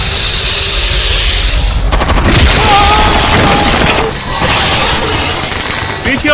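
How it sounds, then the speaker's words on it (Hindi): Loud bursts of gunfire and booming blasts in a Hindi-dubbed Hollywood action movie, a dense chaotic volley that rises, dips briefly and returns, like a film battle scene. "गोलियां चलाओ। Calling guess, calling guess. गोली मारो।"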